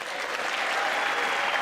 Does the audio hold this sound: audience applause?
yes